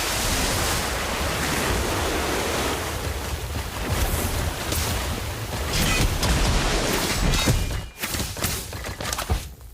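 The water orb spell in the video game Harry Potter: Magic Awakened rushes and surges like churning water, a loud sustained wash with brief splashy bursts and a short dip near the end.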